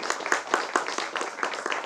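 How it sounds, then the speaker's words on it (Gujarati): A small audience claps for a guest film director at a stage talk show, a sparse, uneven patter of individual hand claps rather than a full roar. "આસિફભાઈ માટે એકવાર જોરદાર તાળીઓ"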